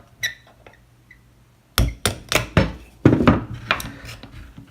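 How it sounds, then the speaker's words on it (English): Metal punch and hammer strikes knocking two pins out of a Larue MBT rifle trigger group, a few faint taps followed by two bursts of sharp, close, ringing blows in quick uneven succession. "Just going to knock these two pins out."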